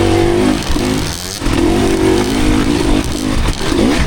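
Suzuki RM250 two-stroke dirt bike revving on a singletrack trail, loud and close with continuous rising and falling engine buzz, throttle blips and clatter throughout.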